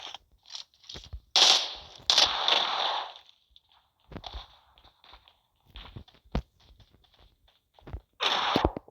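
Gunfire in a video game comes as several sharp bursts and scattered shots, some loud and close, separated by quieter gaps with light clicks and rustles.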